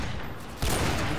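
Call of Duty Modern Warfare 2 multiplayer gunfire, a sudden loud burst of rapid shots erupting midway after a quieter stretch, close and harsh.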